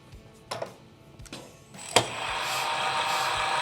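A torque tool drives a bolt 360 degrees past its 280 torque value toward tensile fracture, a few sharp ticks and clicks followed by a sudden loud crack and a sustained bright grinding whir.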